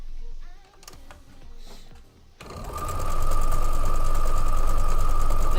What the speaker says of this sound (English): and then we'll sew those up together